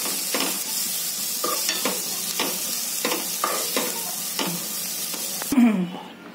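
Green chili thecha fries in a pan as coriander goes in. A spatula scrapes and stirs in steady rhythmic strokes over a constant close sizzle.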